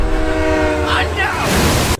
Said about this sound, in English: the train hitting the dragon